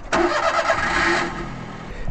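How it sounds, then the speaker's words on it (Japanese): A kei camper van's engine starts: a brief starter crank catches into a steady mid-pitched idle, close and fairly loud, with no talking over it. "じゃあエンジンつけます"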